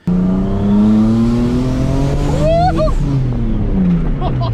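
A 600HP rear-mount turbo Nissan 350Z accelerating hard on a test drive, the engine note climbing loudly through the rev range with a brief tire chirp and whistle, close and strong from start to finish.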